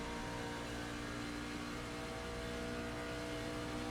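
Truck in the iRacing sim game, its engine a faint, continuous drone that holds steady from start to finish with no other sounds.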